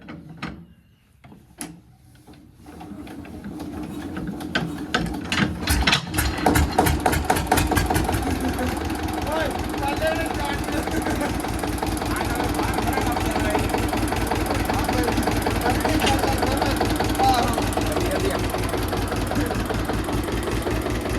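An Asha tractor cranked in cold weather: a few heavy knocks and clunks, then the engine catches and settles into a loud, steady, close diesel chug that runs to the end, with a voice heard briefly near the start.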